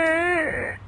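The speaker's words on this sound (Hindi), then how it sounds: "तभी उसकी दादी सास को रोने की आवाज आती है" A woman on a kitchen floor, covered in spilled flour, lets out one loud, wavering wail that slides down in pitch and fades within about a second, with no talking.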